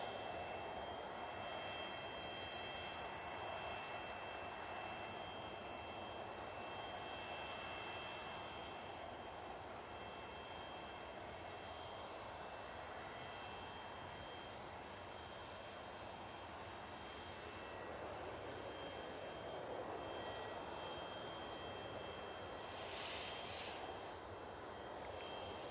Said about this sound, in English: Here comes the Aer Lingus.